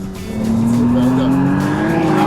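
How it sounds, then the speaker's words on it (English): A McLaren Artura drifting on a track, its engine droning loudly and close with a sustained tire squeal that climbs slowly in pitch, and voices talking underneath. "Lovely, look at that drift."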